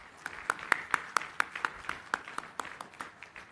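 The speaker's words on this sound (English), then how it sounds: "Can we have a big round of applause" Sparse clapping at a university convocation ceremony, about a dozen distinct, fairly faint claps in an irregular rhythm, sounding like only a few hands.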